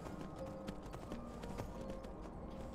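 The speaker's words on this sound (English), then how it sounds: "Go on, little horse, you can get through there." A horse in Skyrim Anniversary Edition clip-clops along with steady hoof falls, faint and set against a low ambient game background.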